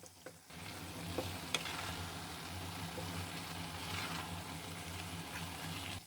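A spoon or spatula stirs carrot halwa mixed with almonds, cashews and pistachios in a hot pan, giving a steady soft sizzle and scraping that continues throughout, close and even, with a faint low hum underneath.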